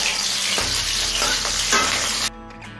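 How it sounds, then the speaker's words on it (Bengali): Cauliflower florets frying in hot oil, a steady loud sizzle with stirring scrapes, cutting off to a quieter simmer near the end. "ফুলকপি লাল করে ভেজে নিয়েছি,"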